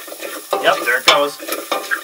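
Garlic sizzles in hot oil in a pan, a close crackling hiss broken by a few stirring scrapes and pops over about two seconds, with no talking.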